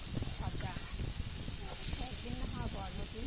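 Pumpkin, beans and potatoes fry in a pan with a steady, close sizzling hiss that continues throughout, while a person talks over it.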